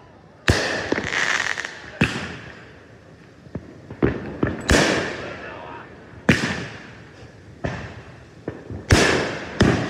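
Independence Day fireworks bang and crackle in a string of loud, sharp bursts a few seconds apart, each trailing off into a crackling decay.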